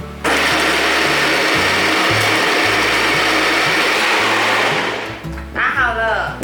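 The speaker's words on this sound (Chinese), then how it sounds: "开始搅拌" A blender runs loud and steady, whirring through soaked soybeans and black beans in water with rose salt and sugar, then slows and winds down near the end.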